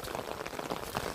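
Steady rain patters on surfaces outdoors during the Kartik season in Nepal, a dense continuous hiss of drops with no talk.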